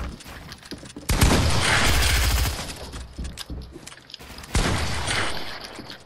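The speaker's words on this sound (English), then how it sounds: "let me shoot my shotgun, bro." Shotgun blasts in Fortnite: two heavy, booming shots a few seconds apart, each followed by a rumbling tail, over a busy background of game effects with no talking.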